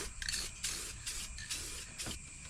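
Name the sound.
spraying Rust-Oleum gloss black acrylic enamel paint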